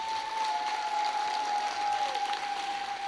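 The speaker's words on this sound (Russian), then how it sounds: "Еще раз аплодисменты!" An audience claps steadily through a gala concert at a Komi Republic culture festival. The sustained applause is moderately loud, with a thin constant whistle running through it.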